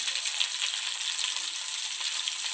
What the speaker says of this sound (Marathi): शिजून घ्यायचं आहे कांद्याला नंतर कढीपत्ता टाकायचा आहे